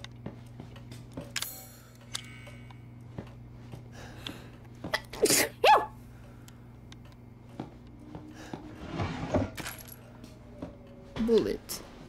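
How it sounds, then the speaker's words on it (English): A person sneezes in two sharp bursts mid-clip, and a further burst comes near the end, over a low steady room hum and scattered small clicks. "I think I'm gonna sneeze again."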